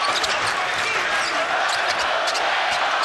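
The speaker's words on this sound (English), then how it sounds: "Kansas fans making the noise right now." Arena crowd noise from Kansas fans at a Kansas vs Duke men's basketball game, a steady broadband roar with a few ball bounces and squeaks, and a commentator's voice faintly under it.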